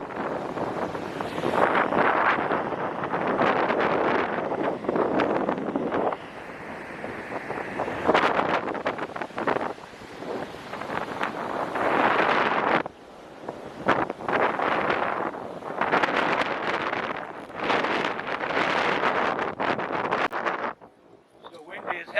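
Strong wind buffets the microphone in rough gusts on a beach at Half Moon Bay, with surf-like rushing noise swelling and dropping throughout.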